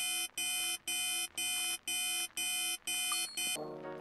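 Video game alarm clock in Dominique Pamplemousse rings in a steady run of about eight bright buzzing bursts, evenly spaced and alone, before cutting off into a softer tone.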